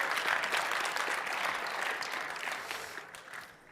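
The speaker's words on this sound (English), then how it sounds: "I think somebody liked it, so I'll let them clap" A live audience at a product presentation breaks into dense applause that holds steady, then thins and fades toward the end.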